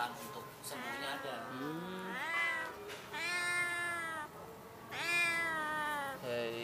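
Cats meowing repeatedly, a series of loud, drawn-out and rising cries close by, some overlapping, with a voice talking among them.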